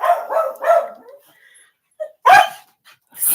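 A normally calm dog named Sunny barks in alert at an unseen presence, a couple of sharp close barks with a brief whimper-like yip between them, loud and otherwise alone.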